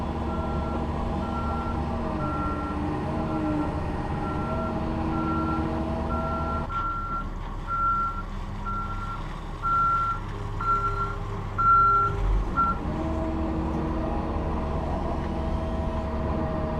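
A fuel truck reverses beside a new 2019 Kobelco SK270SR-5 excavator, its steady series of backup beeps ringing out at a regular pace over a continuous diesel engine drone for most of the stretch.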